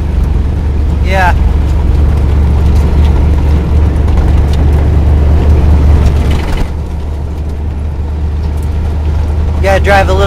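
Steady low road and engine rumble from a car cruising along a Kansas road, continuous and fairly loud throughout, with brief voices heard over it.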